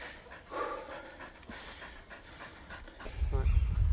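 A police patrol dog pants close by in quick, rhythmic breaths, growing louder toward the end over low background noise.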